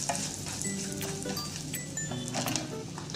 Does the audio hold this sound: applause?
no